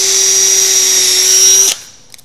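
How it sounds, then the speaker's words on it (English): Loud, steady whine of a power drill boring through an acrylic router sled baseplate with a small bit, running evenly before stopping abruptly, followed by a few faint clicks. "Start with a smaller diameter drill bit"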